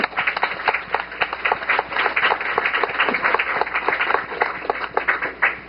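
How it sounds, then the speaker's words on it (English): A campus scholarship event audience claps for the people just named, producing many sharp, fairly loud hand claps in a continuous round. "So let's give them a round of applause."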